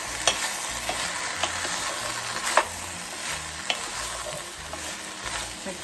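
Celery and vegetables cook in a pot for ham and potato chowder, giving a steady sizzle with occasional stirring scrapes and clinks, loud and close with no talking.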